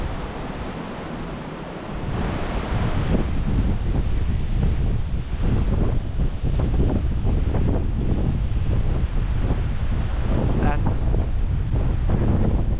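Strong wind blasts across the microphone at a mountain lookout, producing a loud, constant roaring rumble that barely lets up, with a voice speaking faintly beneath it.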